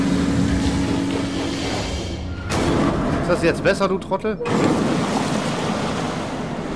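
Water floods in heavily in the horror game Man of Medan, a loud and constant rushing roar with a short burst of heavy splashing near the middle, while someone speaks over it.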